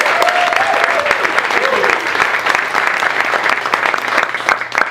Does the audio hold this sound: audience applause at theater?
yes